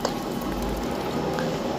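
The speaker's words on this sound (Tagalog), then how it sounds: "Lagay ako ng tubig." Water pours steadily into a pot of cassava soup with goji berries and meat, making a continuous close, liquid splashing and filling sound with no talking.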